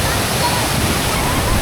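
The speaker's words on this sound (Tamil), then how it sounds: "எவ்வளோ ஒரு ஃபீல் கொடுக்குது பாருங்கள் அந்த வாட்டரோட சவுண்டு, அந்த வாட்டரோட ஃப்ளோ" Water rushes over the Seemapuram check dam near Chennai, a loud, dense, continuous roar of flowing water close by with no break.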